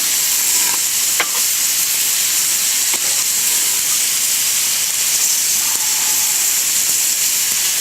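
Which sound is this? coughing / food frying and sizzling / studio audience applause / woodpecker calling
food frying and sizzling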